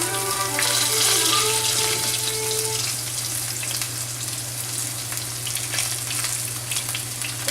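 Squirrel meat sizzles and crackles steadily in a hot frying pan, a continuous close frying hiss with a low steady hum beneath and no voices.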